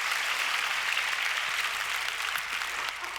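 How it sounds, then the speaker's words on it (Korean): Church congregation applauding during a Sunday sermon, a steady wash of many hands clapping together at moderate distance, sustained and even before tapering slightly at the end. "남의 교회가 잘 돼도 박수해 주세요."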